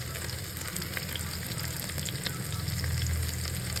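Onions with green chilli and ginger garlic paste frying for biryani, a soft continuous sizzle with faint stirring, steady and fairly quiet, no talk.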